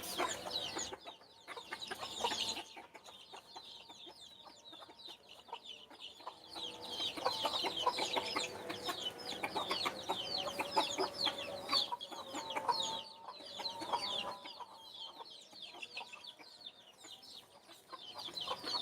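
A flock of chickens clucks and chatters continuously nearby, with busy overlapping calls throughout and no talking.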